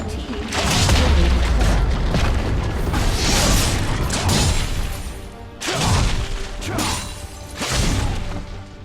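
Heavy booms and crashing blasts from a turret being destroyed in the League of Legends video game, several loud explosions in quick succession with short gaps between them.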